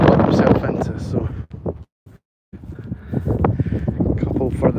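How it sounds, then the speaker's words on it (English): Gusty wind buffets the camera microphone on an outdoor dog walk, a loud low rumble over the whole clip that cuts out briefly in the middle before returning; a person talks through it. "A bit windy."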